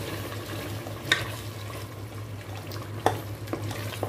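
Mutton with softened tomatoes and spices frying in a pot, a constant low sizzle with occasional sharp clinks and scrapes from stirring, moderately close.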